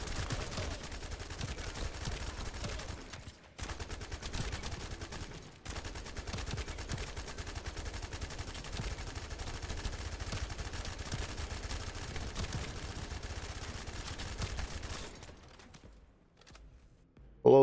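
Sustained gunfire from the Enduring Legacy gun in The First Descendant video game, a dense continuous rattle of rapid shots with brief gaps, fairly loud and steady until it cuts out near the end.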